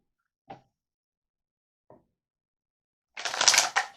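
Tarot cards being handled: two soft, brief taps a second apart, then a quick, crisp riffle of cards near the listener in a quiet room.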